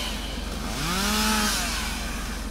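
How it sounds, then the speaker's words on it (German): A chainsaw sits in a snowmobile repair shop and buzzes steadily nearby, rising briefly in pitch as it revs once before settling back to its running drone. "Oh, hier gleich ist eine Kettensäge."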